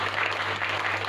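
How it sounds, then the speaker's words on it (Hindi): A church congregation at a Sunday service claps together in a brief, dense burst of applause, steady and fairly loud with no talking over it. "ताली बजाएंगे।"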